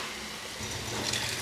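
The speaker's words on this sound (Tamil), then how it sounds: "அதனால் ஒரு நிமிஷம் இப்படி வதக்கிட்டு நம்ம புளித்தண்ணி ஊற்றிடலாம்." Tamarind water poured into a pan of sautéed spices for rasam, a steady splashing gush of liquid, close and fairly soft, with no talk.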